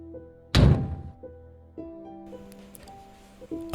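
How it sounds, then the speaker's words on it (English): A single loud, heavy bang strikes a door close by, a booming thud followed by a quiet, tense hum and faint low thumps. "A loud bang from the other side of the door."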